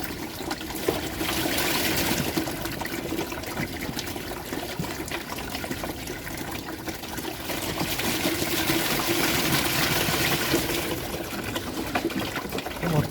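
Water trickles and drains continuously, a steady splashing dribble that swells slightly toward the end, with no talking.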